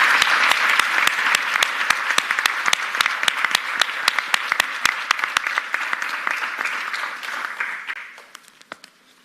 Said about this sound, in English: I think it's about time you gave them a very rousing round of applause